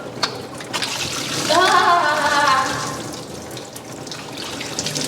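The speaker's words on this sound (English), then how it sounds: "we gotta drain enough water out of it that we can take the intake manifold off" Water gushes and trickles out of a junkyard engine being drained, a steady splashing flow that swells in the middle and eases off, with faint voices in the background.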